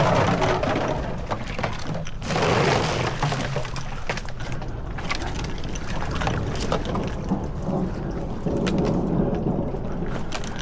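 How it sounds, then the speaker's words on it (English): Thunder rumbles through a heavy thunderstorm over an Arkansas duck-hunting field, a loud, continuous roll with crackling bursts above steady rain and wind. "it's thundering and lightning"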